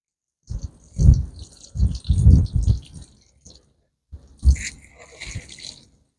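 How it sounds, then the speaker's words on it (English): Water splashes and pours in short, irregular bursts onto soil in garden containers planted with vegetable seeds, close and fairly loud, with a pause partway through before a final spurt. "Now I'm gonna water them."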